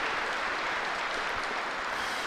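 A crowd at a pro/am archery shootdown applauds after a shot, a steady broadband clapping wash held at moderate volume for the whole moment, with no voices standing out above it.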